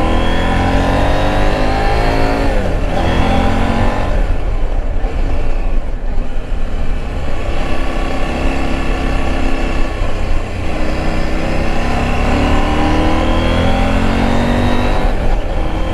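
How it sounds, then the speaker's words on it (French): KTM 790 Adventure motorcycle (2019, A2 35 kW version) engine revving up through the range under load, with rising harmonic sweeps and quick shifter gear changes, loud and steady throughout with no talk. "quand tu commences à monter dans le régime moteur, c'est plutôt sympa"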